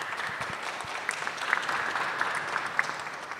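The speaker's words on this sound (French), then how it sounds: "Merci Père Jean-François Mondy, on peut vous applaudir." Steady applause fills a parish gathering hall in Mérignac, many hands clapping together at an even, moderate level from start to finish with no speech.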